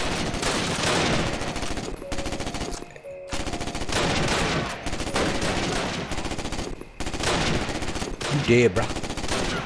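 Rapid automatic gunfire in the Call of Duty: United Offensive video game, loud, dense bursts nearly continuous with brief gaps, while a player speaks briefly over it.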